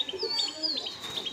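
A male pigeon in a home loft gives soft, low coos beneath a run of thin, high chirps from nearby birds, all quiet and close over a brief stretch.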